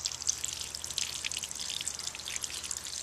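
Water pours and trickles steadily out of Dutch bucket irrigation lines, a continuous close splashing patter with no voices.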